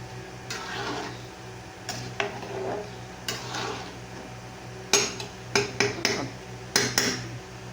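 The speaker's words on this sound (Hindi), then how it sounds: "अब इसको थोड़ा ऐसे हिला देंगे।" A spoon scrapes and clanks against a cooking pot while vegetable pulao rice is stirred, with irregular metallic knocks that come faster and louder toward the end over a low steady hum.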